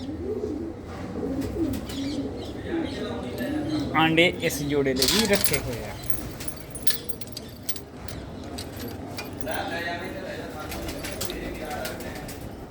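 Black-eyed pigeons in a loft with nesting pairs give soft, low cooing close by, while someone talks over them and small metallic clinks sound in between.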